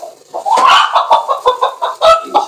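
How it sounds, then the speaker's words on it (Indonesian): Free-range village chicken clucking close by, a rapid run of short, bright clucks in an uneven rhythm, fairly loud and with no voices. "Itu dia ayam kampungnya."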